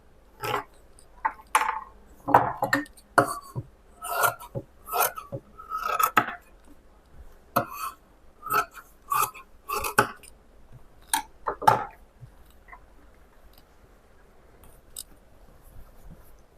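Scissors snipping through blouse lining fabric, a string of quick crisp cuts in irregular clusters, close and clear over a quiet background, with no talking.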